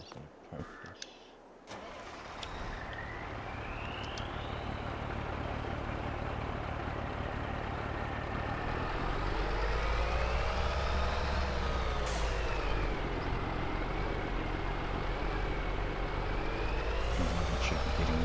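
A truck engine in Farming Simulator 22 turns over and settles into a steady rumbling idle, with rising and falling engine whine as it moves and a faint beep, all heard close up.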